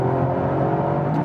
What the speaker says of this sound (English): I have the IMT mode activated. This gives us some throttle blips